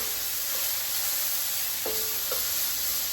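A big heap of garlic sizzles in a hot pan with a steady bright hiss, and a couple of faint scrapes are heard as it is stirred around, close up and with no talking.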